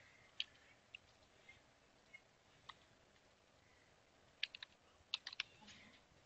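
Faint, sparse keystrokes on a computer keyboard in a quiet room, a few isolated taps followed by a quick cluster of clicks, with no talking.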